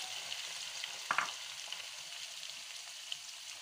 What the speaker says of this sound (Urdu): اب ہم اپنا پیاز فرائی کریں گے ہاف کپ آئل لیا ہے ہم نے